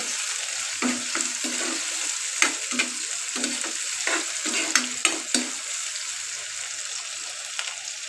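Green chilies fry with onions in a pan, a soft steady sizzle broken by repeated sharp spatula taps and stirring scrapes, close and fairly quiet.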